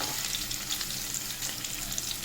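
Steady, close sizzling of paneer frying in a hot pan, a continuous crackling hiss with no voices.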